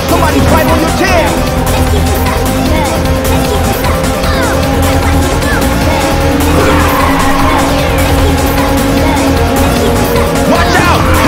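Race cars roaring through a Ridge Racer circuit on PSP, engines droning steadily with tire squeals and a nitrous boost surge, loud and continuous with a voice talking over the action.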